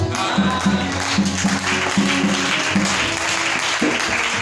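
Sustained applause fills a church as the congregation claps together for the Lord, a loud, dense wash of hands with a low musical hum running underneath.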